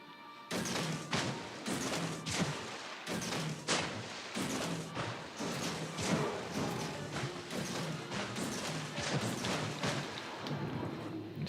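Torpedoes launching in a naval video game thump out one after another in a steady series of heavy, close thuds, each followed by a rumbling wash of noise, with no voices during the sequence.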